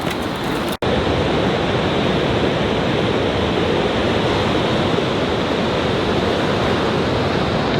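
Ocean waves roll in at a foggy, rainy beach, making a loud, unbroken wash of surf noise that runs steadily after a brief cut at the start.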